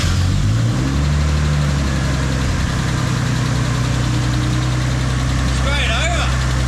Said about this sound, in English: it wants to crank, so let's see if we can get it to fire up now